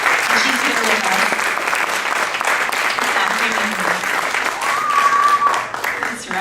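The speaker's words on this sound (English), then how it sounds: "So if we could give her a round of applause" An audience at a community coffee house concert applauds steadily and loudly throughout, with a voice briefly audible over the clapping.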